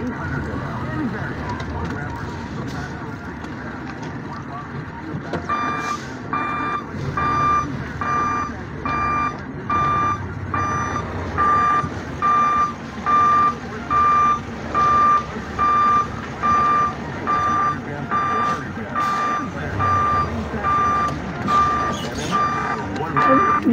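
A truck backs up with a steady, repeating reversing beep that continues through most of the stretch over engine rumble and street noise, while people talk nearby.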